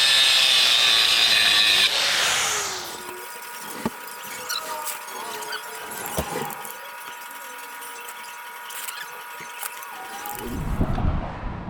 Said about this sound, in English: I'm just going to cut that guy right off there with the grinder